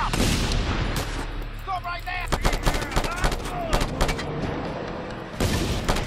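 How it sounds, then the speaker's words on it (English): Burst gunfire in the video game Just Cause 2: loud, rapid volleys of shots crack repeatedly across several seconds, with heavy impacts and faint voices mixed under the game's combat noise. "you like that, that burst fire?"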